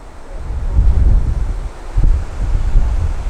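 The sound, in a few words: strong wind blowing at a fishery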